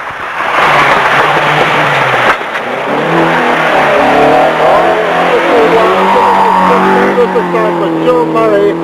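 An Avenger 1600 rally car, a Group N entry, roaring along a forest stage in 1985, engine loud and revving through gear changes while a commentator talks over it.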